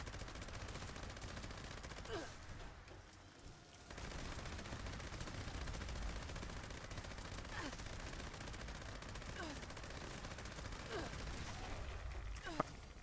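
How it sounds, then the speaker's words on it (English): A Gauss minigun fires in a video game raid as continuous, dense mechanical gunfire with a steady roar and brief dips, close and sustained for the whole stretch. "we're going to just test this out on the Gauss minigun"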